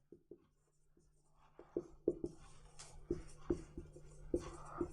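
Pen or chalk writing while solving a linear equations problem in two variables, with a series of close, distinct taps and scratches at an irregular rhythm over low background hum.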